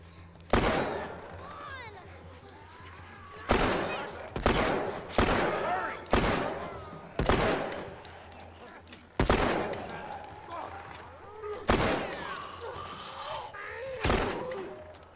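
Gunshots fired one at a time in The Last of Us Part II, about nine sharp loud bangs spaced irregularly a second or so apart, with someone talking in between.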